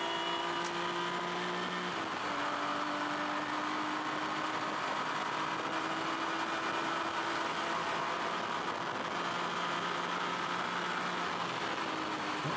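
Touring race car at Pukekohe circuit, an engine droning steadily at close range with a falling pitch shift as it passes and brakes into the hairpin, loud and continuous without speech.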